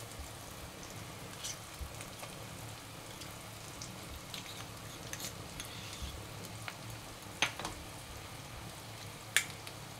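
Chili paste hitting hot oil with onion, ginger and garlic already fried, for a spicy Bengali country-chicken curry; a quiet, steady sizzle with scattered crackles and a couple of sharper pops.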